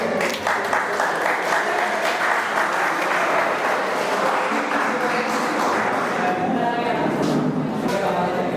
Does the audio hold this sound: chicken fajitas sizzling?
no